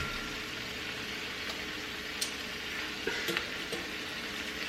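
Salmon, seasoned jerk style, fries in a pan with a soft, steady sizzle and a few light clicks of a utensil against the pan, heard alone at moderate distance.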